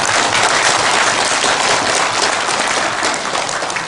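Sustained, dense audience applause for Korean War veterans at a lecture gathering, loud and steady throughout with no voices over it, easing slightly near the end.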